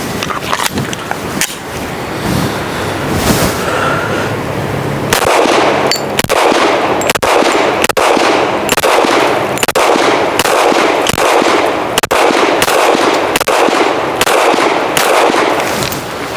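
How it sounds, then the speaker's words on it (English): A rapid string of gunshots empties a final magazine from a MOS-cut pistol fitted with a Gideon Optics Granite red dot at an outdoor range. The loud, sharp cracks repeat steadily every half second or so after a noisier opening stretch. "We'll talk a little more about this once I shoot this last mag up."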